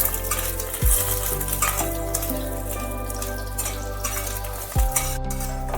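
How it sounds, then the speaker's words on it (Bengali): Large lentil bori made from biuli dal fry in mustard oil with a steady close sizzle and crackle, over a background of sustained tonal music, with two low thuds near the start and end. "কিছু বড়ি ভেজে নিচ্ছি, বড় বড়ি।"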